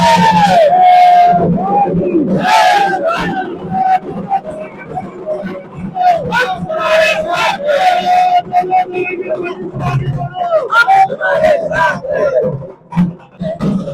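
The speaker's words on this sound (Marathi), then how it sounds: "या ठिकाणी मित्रांनो तुम्ही गर्दी बघू शकताय" Large outdoor crowd at a Dussehra rally at Narayan Gad, a loud continuous roar of many voices with shouting and chanting throughout, a dense hubbub filling the whole stretch.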